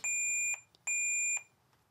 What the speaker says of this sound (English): So as you heard, we got an audible beep.